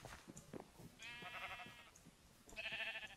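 Sheep in the Minecraft video game bleat twice, each a short wavering cry, with faint background chatter and clicks around them.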